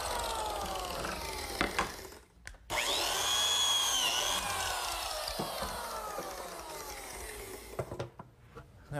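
Power tool cutting slots across cabinet joints for hardwood splines, a sustained whining cut that starts abruptly after short knocks and then slowly winds down, fairly close and loud.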